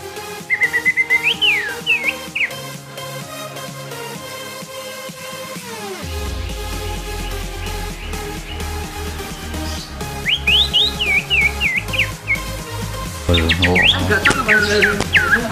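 A cucak ijo (green leafbird) sings clear, sliding whistled phrases in several bursts over a steady low droning background.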